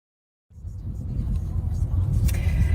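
A car on a road near a house drives past, a steady low rumble rising after half a second of silence and growing slightly louder and nearer toward the end, with no talk over it.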